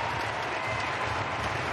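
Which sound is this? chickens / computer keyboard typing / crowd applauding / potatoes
crowd applauding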